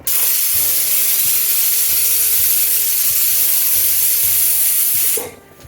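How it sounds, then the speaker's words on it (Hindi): A pressure cooker cooking rice gives a loud, steady whistle of steam escaping under pressure, venting continuously, then cutting off abruptly near the end. "एक विसिल आ गई है।"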